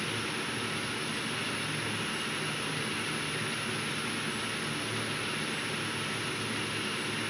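Steady broadband engine drone of a descending airplane in a truck-driving video game, a constant loud wash of noise with no talk throughout.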